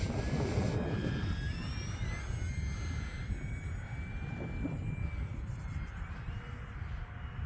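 An E-flite UMX Turbo Timber Evolution RC airplane flies overhead at full power through a loop, its steady motor whine gliding up and down in pitch over broad outdoor wind noise, with no talking.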